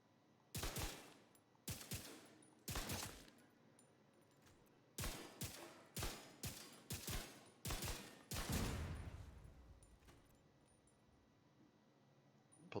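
Rifle fire in a video game, exotic weapons set off by binary triggers: around nine loud, sharp bursts arrive in uneven clusters, some close together, the final one trailing into a long fading rumble, with no talking.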